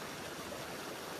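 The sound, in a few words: flowing mountain river stream in Sikkim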